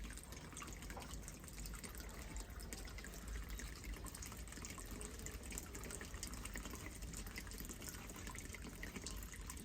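Water runs steadily into an alligator gar's fish tank being filled to about half level, a faint, continuous trickling rush with no break.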